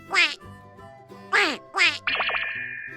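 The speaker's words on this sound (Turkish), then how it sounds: "Ördek." Three loud, nasal duck quacks in quick succession, followed by a longer buzzy quack that trails off.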